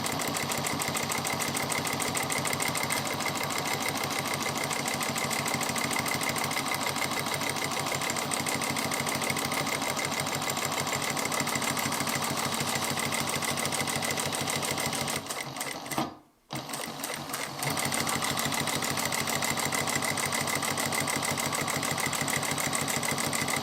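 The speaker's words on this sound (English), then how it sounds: "When this machine moves the fabric forward, the needle is in it" A Juki 1541 triple-feed industrial sewing machine stitches fabric in a long, steady, fast needle rhythm heard up close. A short stop comes partway through before the motor hum and stitching pick up again.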